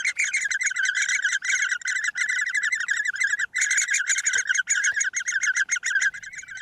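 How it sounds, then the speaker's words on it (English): Great spotted woodpecker chicks calling at the nest entrance, a loud, continuous stream of rapid high chirps and twitters, nearly unbroken and close to the microphone. "One chick is always on chirp guard, calling out at the entrance to the nest, urging the parents to stay close and keep delivering food."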